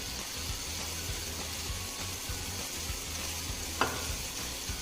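Seasoned food sizzles in a pan with salt, crushed pepper and jeera, a soft continuous frying hiss with light stirring scrapes and a brief clink near the end, fairly quiet.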